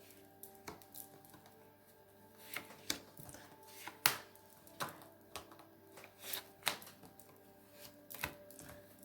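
Tarot cards being handled and drawn on a table make a series of soft, irregular slaps and riffling flicks, close and quiet, over a faint steady hum, with no voices.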